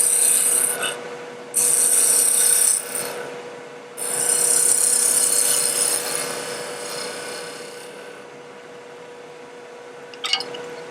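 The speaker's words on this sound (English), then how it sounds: "I'm going to clean the base up using my 3/8 inch deep fluted bowl gouge." A 3/8 inch deep fluted bowl gouge cuts across the spinning wooden base of a tree topper on a lathe, giving bursts of bright hissing shavings over a steady motor hum, with pauses between passes and a few clicks near the end.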